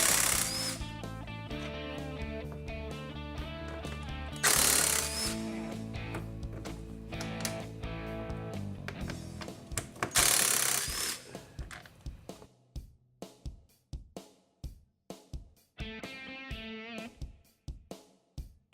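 Bolts are removed from the charger receptacle of an EZGO RXV golf cart with a power tool, giving repeated bursts of whirring, grinding and ratcheting, then a run of separate sharp clicks.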